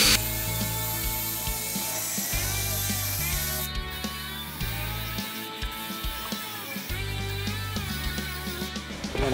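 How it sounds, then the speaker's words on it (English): Power drill boring holes into a rubber tire for a homemade concrete vibration table, whining in repeated bursts that stop and restart with short pauses, close and fairly loud. "We'll drill some of our holes into the tire."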